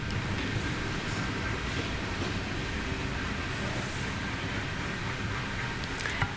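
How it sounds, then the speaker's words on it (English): Train rolling past at close range, a steady loud broadband roar and rumble that fills the whole stretch with no break, a faint clack near the end. "We're pausing for the train?"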